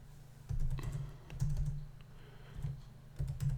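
Fingers type text on a computer keyboard in a quiet room, with short bursts of soft clicking taps separated by brief pauses.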